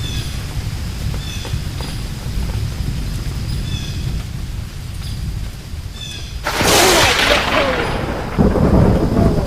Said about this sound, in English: Now the lightning strike. Now the blow. It was 10 meters away from me.